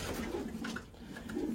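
Racing pigeons coo softly in a loft, a low murmuring burble that swells and fades over a couple of seconds with faint rustling behind it.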